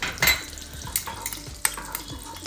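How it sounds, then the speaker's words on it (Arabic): Garlic cloves frying in oil and butter in a pan while making a white pasta sauce, with soft sizzling under clinks of a utensil stirring against the pan and a few sharper taps. "كام فص من التوم كده هنحطه فين؟ في الزيت ومع الزبده."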